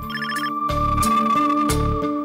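A telephone rings indoors with a bright, melodic electronic ringtone, repeating a short tonal pattern up close for a couple of seconds with no one speaking.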